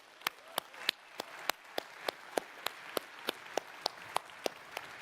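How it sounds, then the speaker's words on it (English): Slow, evenly spaced single claps ring out at a Xiaomi 13 launch event, about fifteen sharp hits over five seconds over faint room noise. "Big round of applause, Barcelona and friends of Xiaomi."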